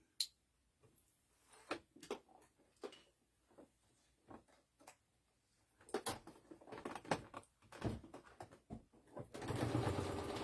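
A sewing machine stitching a breastfeeding bra runs in short, irregular bursts of clicking and tapping, near and fairly quiet, ending in a longer continuous whirr of stitching.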